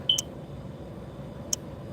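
Smoke alarm chirping from a low battery, two brief high beeps about a second and a half apart over quiet room tone.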